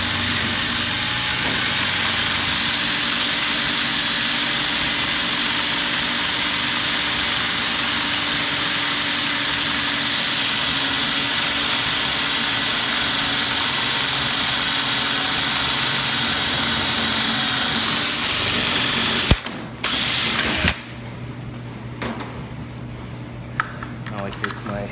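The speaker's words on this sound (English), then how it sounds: "go through the plate and just keep drilling." A power drill bores through the steel lock plate of a laundry coin box, a loud continuous grinding whine for most of the stretch, then stopping abruptly and giving way to softer clanks and handling noise.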